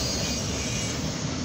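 CSX northbound auto rack freight train rolling past on track one, a steady low rumble of wagons with faint wheel squeal, continuous and moderately loud, no talk.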